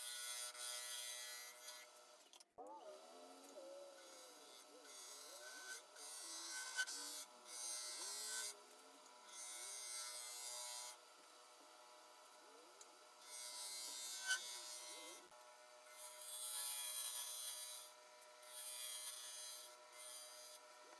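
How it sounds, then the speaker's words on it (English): Parting tool cutting into an ash and resin hollow form spinning on a wood lathe, a quiet steady scraping and rubbing in repeated passes with short pauses between cuts, no talk. "So I'm using the parting tool to basically define where the bottom of the pot is going to be."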